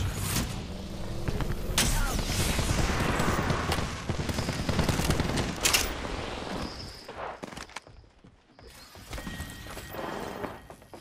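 Gunfire in Apex Legends, rapid bursts of shots and sharp cracks crowding together over clattering mechanical noise, easing into a brief lull before more shots pick up toward the end.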